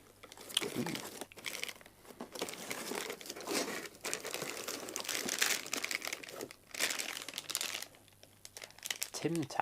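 Packing tape crinkles and rips off a mail parcel in close, scratchy bursts, rising and falling as it is pulled, with a voice speaking over parts of it.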